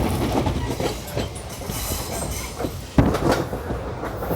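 Indian passenger express train rolling across the Sarada river bridge, a steady loud rumble of wheels and carriages with rhythmic clatter and a sharp jolt near the end.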